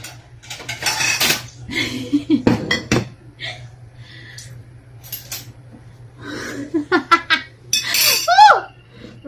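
Ceramic plates and dishes clinking and clattering as they are handled, with scattered sharp knocks and rattles in irregular clusters, close by, interspersed with people talking and a bit of laughter.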